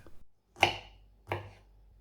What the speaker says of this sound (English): Break the broccoli into small sections, chopping any larger florets.